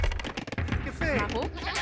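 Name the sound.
sheep bleating in video game Age of Empires 2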